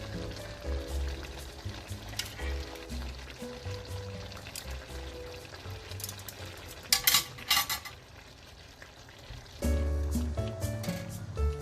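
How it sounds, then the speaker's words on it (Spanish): A spoon stirs ground meat for bolognese sauce in a pot over medium heat, with scraping and clinking against the metal, a few sharper knocks partway through, and a wet, thick churning. "Vamos a menearlo bien meneadito, que se mezcle totalmente."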